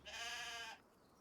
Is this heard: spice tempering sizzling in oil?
no